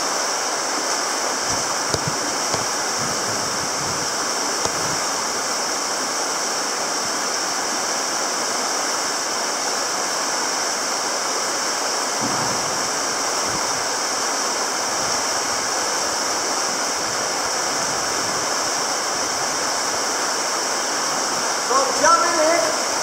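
Steady rushing water fills the clip as a person wades across a flowing river carrying a rucksack, with a few soft splashes and sloshes near the end.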